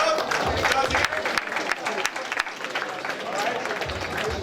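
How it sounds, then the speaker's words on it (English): A banquet audience applauds a boxing champion with dense, sustained clapping that fills the room for several seconds, mixed with crowd murmur and some talking. "Let's clap it up for Doug."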